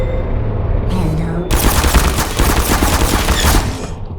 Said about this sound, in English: they're gonna straight up open fire without any sort of mercy